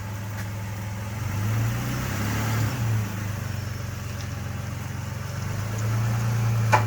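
Nissan Xterra with a swapped engine and poor leak-down results pulling away, a steady low engine drone that swells slightly near the end, moderately close with no talking.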